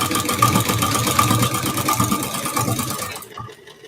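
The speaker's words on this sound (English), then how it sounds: "This ruffler foot's kind of noisy." A Japanese-made clone sewing machine running with a ruffler foot chatters in a fast, steady mechanical rhythm, fairly loud and close, before stopping abruptly near the end.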